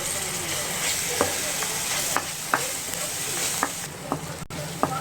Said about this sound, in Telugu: ఆనియన్స్, అల్లం వెల్లుల్లి అంతా చక్కగా వేగిపోయిందండి.